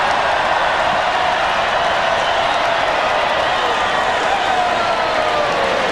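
A dense, steady roar from a packed stadium crowd at the Florida State vs Florida college football rivalry game, loud and unbroken throughout with no clear voices standing out.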